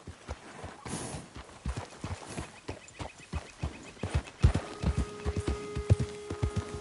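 Horse hooves clip-clopping in Red Dead Redemption 2, a steady walking rhythm of close, distinct thuds that grows slightly louder, with game background sounds and no talk.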